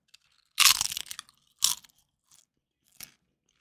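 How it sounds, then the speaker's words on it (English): Crunchy snack chewed close to the mic: a long loud burst of crisp crunching, then a shorter crunch and a few faint bites trailing off, with silent gaps between and no talking. "please save me from the crunchy noises"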